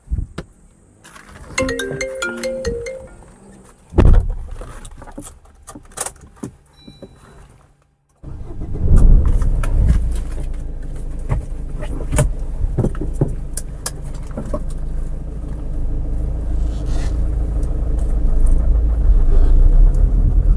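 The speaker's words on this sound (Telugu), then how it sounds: "టెస్ట్ డ్రైవ్ చేద్దాం ఫ్రెండ్స్ ఒకసారి." A car setting off on a test drive. Early beeps, clicks and a door sound come first, then a loud, steady engine and road rumble builds and carries on, close and continuous, with no talking over it.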